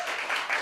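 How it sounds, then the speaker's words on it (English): Audience applause at a university poetry slam after judges' scores are read, a steady wash of many hands clapping at moderate distance with no pause. "Another round of applause."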